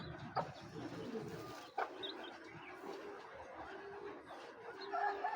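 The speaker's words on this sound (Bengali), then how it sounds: "এটা হলো 19-এর মাদি কবুতর।" A large female racing pigeon coos softly at close range, with low throaty calls over faint background ambience and a couple of sharp clicks or rustles.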